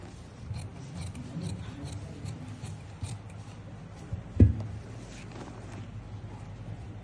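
Scissors snip and rasp through paper while cutting out a collar pattern, soft close scraping strokes with one sharper knock midway, no talking.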